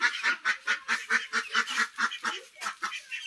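Village ducks give a rapid run of nasal honking quacks, about a dozen calls in a steady rhythm, loud and close with no other sound.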